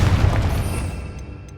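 A Confringo spell blast from Hogwarts Legacy lands as one loud, deep boom that rumbles and fades over about a second, with no voices over it.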